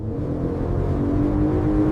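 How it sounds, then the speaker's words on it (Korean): A Ferrari 12Cilindri with a naturally aspirated V12 sings its high-revving exhaust note, a loud, sustained, slightly rising roar held close throughout with no talk. "거칩지만 우아하고 강력한 고회전 배기음은 운전자의 넛을 쏙 빼놓는다"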